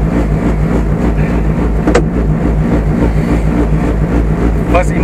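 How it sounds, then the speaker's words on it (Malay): Revving of a 2ZZ engine in a Toyota Corolla AE111 sedan with four throttle bodies and a six-speed manual, a steady loud drone heard from inside the car with some speech over it. "Dengan engine bunyi high cam macam race car, tapi engine ni tak ada high cam."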